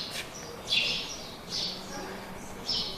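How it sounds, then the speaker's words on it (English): English house sparrows living around a zoo chirp in short bright bursts, three or four bouts of twittering at moderate distance over quiet ambient noise. "English house sparrow, Passera domesticus. Those are not zoo animals. Those just moved in here. So they're doing all that chirping."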